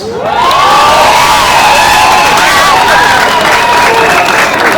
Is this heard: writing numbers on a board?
no